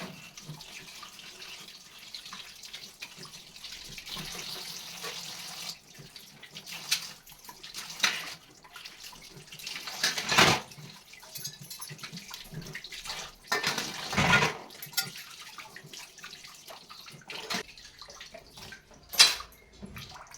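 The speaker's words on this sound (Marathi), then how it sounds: "आता मी हे देव स्वच्छ धुवून घेणार आहे" Brass idols of deities are washed under running water, with a soft, steady splash and trickle punctuated by louder bursts and knocks of the metal figures, fairly quiet and close, with no talking.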